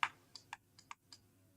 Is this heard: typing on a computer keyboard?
yes